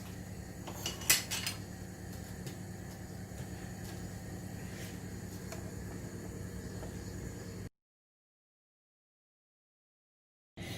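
Donut batter being mixed in a bowl, with a few sharp clinks of a utensil against the bowl early on and a low steady background hum, then a stretch of silence.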